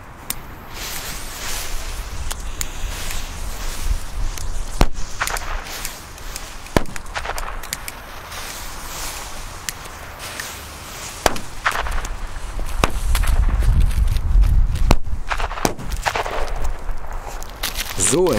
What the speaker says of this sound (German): wir fangen an mit den neuen Katan B-Böller.